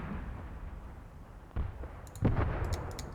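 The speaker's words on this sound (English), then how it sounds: "This mortar strike and this artillery strike" Artillery and mortar strike in Graviteam Tactics, two muffled distant booms about a second apart over a low rumbling background.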